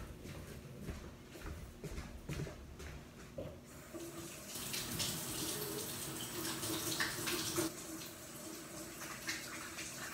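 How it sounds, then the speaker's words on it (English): Hands being washed under a running kitchen tap, a soft steady splash of flowing water that swells after a few seconds of quieter clatter and handling, fairly faint and without talking. "I'm going to go wash my hands"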